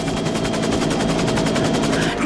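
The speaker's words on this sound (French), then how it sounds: "Des coups de feu au premier étage." Sustained automatic gunfire on the upper floor of a building in an early-1990s action film, rapid continuous bursts filling the whole stretch, loud and close, with no talk over it.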